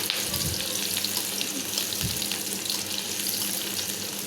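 Onion fries in oil for a Bengali tilapia curry, a dense steady hiss of sizzling that fills the whole clip, loud and close with a couple of faint stirring knocks.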